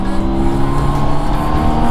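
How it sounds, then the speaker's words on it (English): A BMW K1600 GTL touring motorcycle's inline six-cylinder engine running, a smooth, loud, steady drone with strong tonal hum, heard alone without talk. "that inline six-cylinder engine just absolutely sounds like a spaceship or something"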